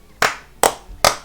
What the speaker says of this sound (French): Applaudissez tous, applaudissez tous.